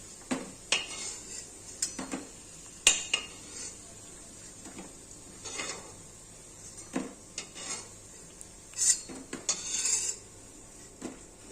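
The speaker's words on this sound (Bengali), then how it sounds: "বড়া ভাজাগুলো হয়ে গেছে এখন একটা একটা করে তুলে নিচ্ছি" Fried drumstick flower fritters are lifted one by one from a pan of oil with a metal utensil, making sharp clinks and scrapes at irregular intervals over a faint, low sizzle.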